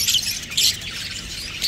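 A parrot or lovebird gives a few short, shrill squawks close by, bursts coming roughly every half second, with no voices around it.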